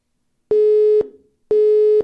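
Telephone busy tone on a radio call-in line after the call drops: two loud, steady half-second beeps with a brief gap between them, alone.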